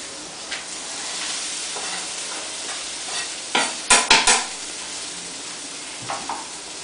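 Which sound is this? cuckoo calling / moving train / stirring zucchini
stirring zucchini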